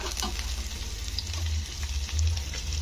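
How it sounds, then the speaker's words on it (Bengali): Fish oil hits onions frying in a pan, giving a steady, close sizzle with small crackles and a low rumble underneath, continuous and fairly loud. "এরপরে আমি দিয়ে দেব মাছের তেলটা"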